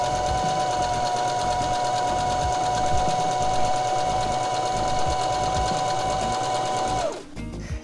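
A sewing machine runs steadily with a fast rhythmic chatter and a high whine, zigzag-finishing fabric edges, close and continuous for about seven seconds before stopping abruptly.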